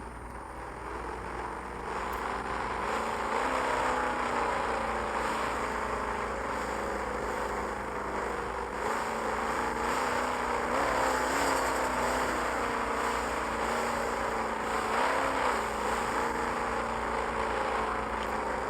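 A car without off-road tires drives over rough ground on a military base obstacle course in the video game Taxi Boss. Its steady, droning engine runs continuously and alone, with no talking.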